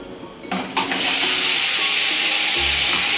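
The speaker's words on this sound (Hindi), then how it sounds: "मैंने तेल भी रख दिया है गर्म हो रहा है तेल अब मैं चाहूँगी इसमें मसाला डालने" A sudden loud sizzle erupts as spices hit hot oil for a chana dal kadhi tempering, then settles into a steady, continuous frying hiss close by.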